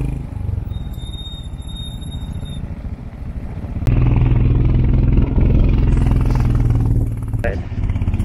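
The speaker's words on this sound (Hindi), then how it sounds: "तो बाइक की आवाज़ फेल हो रही" Scooter engine labouring at very high altitude above Everest base camp, a loud close continuous rumble that rises sharply partway through, with squealing tones early on.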